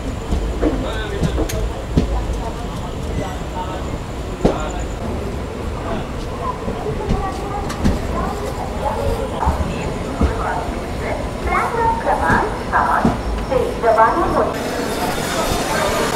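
A Rath Yatra special train from Kolkata to Puri arriving at Kharagpur Junction rumbles and clatters steadily throughout, loud and close from on board, with voices talking over it.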